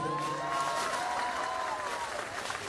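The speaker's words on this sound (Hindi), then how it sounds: "तो उसके लिए सारे लोग पहले अपने आप के लिए तालियां बजा दीजिए" A protest crowd, gathered on its 36th day, claps for itself in continuous dense applause that carries straight through the moment with no lull.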